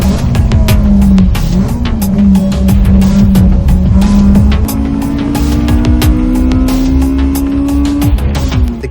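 Race car on a flying lap at Sepang circuit, engine droning loud and close with steady pitch that climbs through gear changes, tire noise and sharp clicks over a continuous roar.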